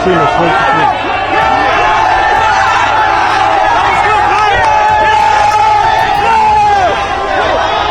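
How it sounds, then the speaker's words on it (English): A dense crowd of fans mobbing someone getting out of a car, shouting and screaming all at once, loud and close, with overlapping excited voices and no pause throughout. "Kai got absolutely mobbed as soon as he got out of the car"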